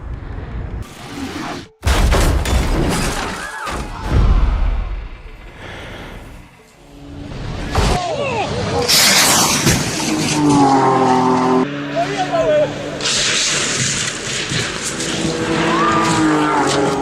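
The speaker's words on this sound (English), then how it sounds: "he did not hit the brakes, resulting in him going airborne and crashing into the spectators' gallery" A car crashes at the Nurburgring's Flugplatz section after going airborne, with loud impacts, skidding and tire squeal, and racing engines roaring past amid crowd noise.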